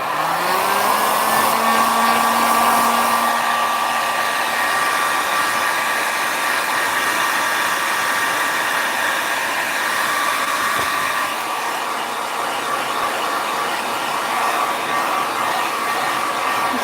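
A hair dryer blows steadily over an alcohol ink geode painting, a loud, continuous airy whir that dips slightly in pitch early on and then holds, running alone without voices.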